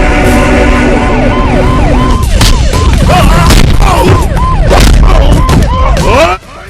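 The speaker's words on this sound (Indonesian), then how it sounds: "Apalagi saat itu ada ambulan yang ikut terjebak." An ambulance siren in an Indian film wails in rapid repeating up-and-down cycles, loud and close, mixed with heavy impact sounds and dramatic background noise before cutting off near the end.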